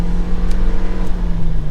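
A 2023 Nissan Versa SR pulling away under throttle, a loud steady engine drone with a low hum close by inside the car, brief and without voices.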